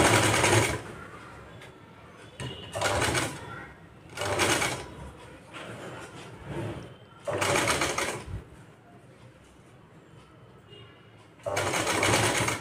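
A sewing machine stitches lace onto the back of a blouse in five short, loud bursts of rapid whirring. Quieter gaps separate the bursts, and someone talks during them.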